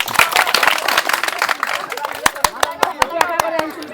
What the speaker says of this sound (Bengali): আজকের উইনার জুড়ে একটা হাততালি সবাই